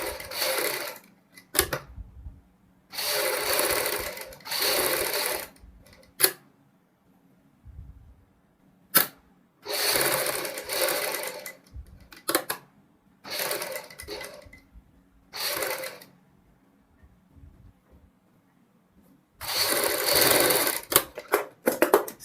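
A sewing machine stitches a lotus-style kurti neck design, running in loud, close bursts of rapid stitching separated by short silent pauses, with no talking.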